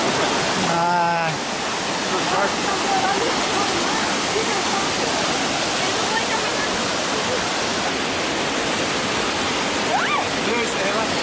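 Himedaki waterfall in Shimane, Japan, roars as a loud, steady broadband rush of falling water throughout, with brief voices and chatter near the start.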